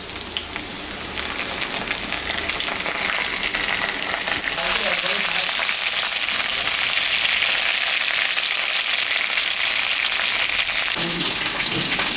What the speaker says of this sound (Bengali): এখন আমি করলাগুলা ভাজে নেব